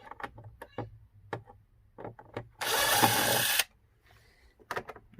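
Power drill whirring for about a second as it backs a screw out of a KS18L electric unicycle during teardown, loud and close, surrounded by quieter clicks and taps of handling parts.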